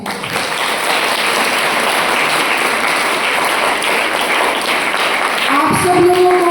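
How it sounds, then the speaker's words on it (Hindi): A crowd claps at a live preaching event, with loud, sustained applause throughout and a brief tonal musical sound entering near the end. "हम सब इन लोगों के लिए तालियां बजाएंगे।"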